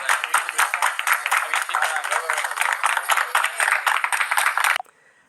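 Steady crowd applause welcoming Professor Muhammad Yunus in China, dense continuous clapping that stops abruptly near the end, with no speech over it.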